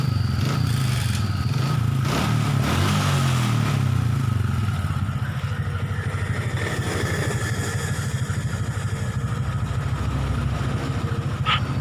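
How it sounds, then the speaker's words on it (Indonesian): A motorcycle engine idles close by while kept alive by a jumper battery because of a charging fault in the stator or regulator, a steady uneven putter with light mechanical clatter throughout. "Ini motor masih menyala tapi dengan bantuan aki jumperan seperti ini ya"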